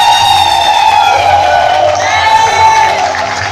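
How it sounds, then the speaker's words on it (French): A church congregation cheers and whoops loudly, with mixed shouts and voices rising together in a lively burst that tails off slightly toward the end. "Est-ce que tu peux acclamer Jésus"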